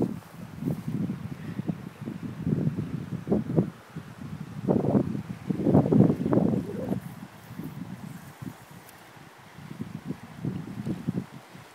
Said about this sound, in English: So how are you finding the wind conditions today, Anne?